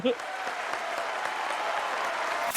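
Studio audience at a humorous TV quiz show breaks into loud, dense applause that holds steady for a couple of seconds, close and full, ending with a brief burst.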